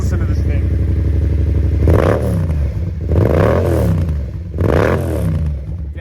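A motorcycle engine idling roughly, then revved three times in quick rising and falling swells, loud and close with mechanical clatter between throttle blips.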